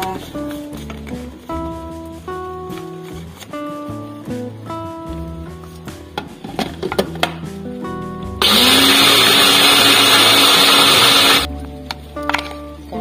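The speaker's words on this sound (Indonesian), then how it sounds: "Kemudian kita blender aja." An electric blender grinds dried grated coconut into coconut milk powder, a loud, steady whirring roar lasting about three seconds that cuts in abruptly over background music and then stops.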